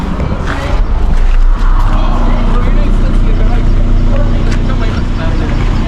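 A Mercedes CLS diesel car engine starts up nearby, turning over with a rising rumble and settling into a steady, loud idle drone while people talk over it.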